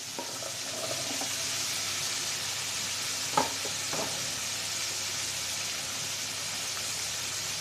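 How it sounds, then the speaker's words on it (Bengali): Snakehead fish is sautéed in a pan with drumsticks and potatoes, giving a steady, dense sizzle and frying hiss throughout with a few soft stirring knocks, close and alone. "মাছ আমি ভালোভাবে কষিয়ে নেব দিয়ে দেবো সাজনা আর আলু"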